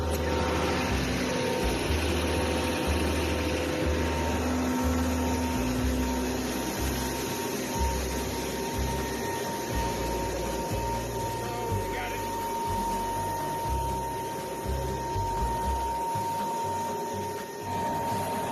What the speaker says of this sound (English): That's an air chamber with a huge fan in there sucking on it,